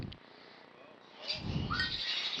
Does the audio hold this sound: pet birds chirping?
yes